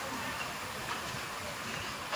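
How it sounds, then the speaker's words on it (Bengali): The Puri Duronto Express pulling out of Kharagpur station, heard as a faint, steady rolling hiss and rumble of a moving train with no distinct clatter. "ট্রেন খড়গপুর স্টেশন থেকে প্রায় বেরিয়েই গেছে"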